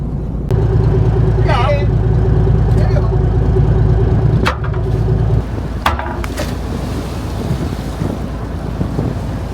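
A crab fishing boat at sea tows a newly set 12-rope crab line while the sea anchor takes hold, its engine a steady low drone under wind buffeting the microphone, with a few brief knocks and a voice speaking briefly.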